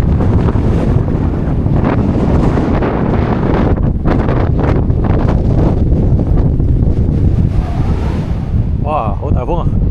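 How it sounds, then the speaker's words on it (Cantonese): Strong gusting wind buffets the microphone on a mountain hike over Sai Wan Shan toward Sharp Peak, a loud continuous roar for the whole stretch, with a brief voice near the end. "好大風啊！"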